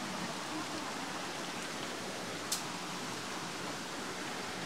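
Steady broadband rush of a waterfall and flowing stream water in a rural Lao forest creek area where people are digging for gold, continuous and close, with no clear talk.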